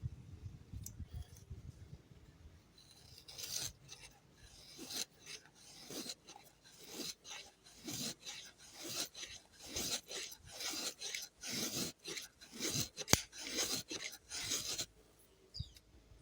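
A Woodsman knife carving curls from a quarter-round piece of wood, a series of close, dry rasping scrapes in quick irregular strokes, fairly quiet and with no talking.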